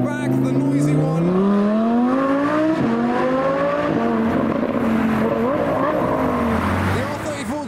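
A noisy Audi R8 sports car engine roars loud and close, its pitch climbing steadily in long revving sweeps that waver and dip near the end.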